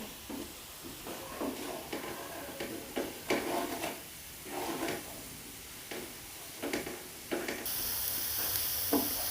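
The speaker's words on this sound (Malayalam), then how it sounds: "നമ്മൾ ഉപ്പിടുന്നുണ്ട് ഉപ്പിട്ടിട്ട് ഒന്നുകൂടി ഒന്ന് ഇളക്കിയെടുക്കുക" A cutlet mixture with salt just added is stirred in a hot pan, giving a soft, quiet sizzle under repeated light scrapes and taps of a spoon at an even pace, with no talking.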